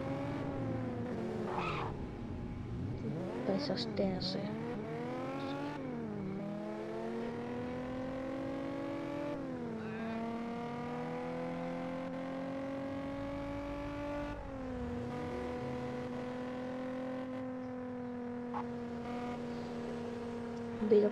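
A limousine engine in the Gangster New Orleans video game, humming steadily and rising and falling in pitch as it revs and shifts while driving, with someone talking briefly over it.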